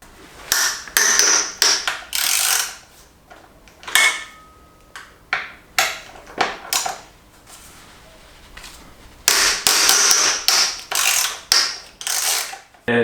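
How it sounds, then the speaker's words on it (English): A 6 mm Allen key wrench loosens the two axle stopper bolts on the left front fork leg of a Suzuki V-Strom 800, giving repeated close metallic ratcheting clicks and short scraping turns in uneven bursts. "loosen the 2 axle stopper bolts on the left front fork leg, and for this we will use a wrench with an Allen or hex key of size 6"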